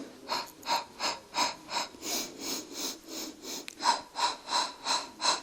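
During a Pilates lower-body exercise with an elastic band, close, steady breathing rises and falls in a regular rhythm of about ten even breaths, soft and alone.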